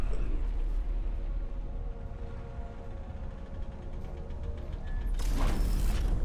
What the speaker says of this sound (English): Slides in and then locks in place.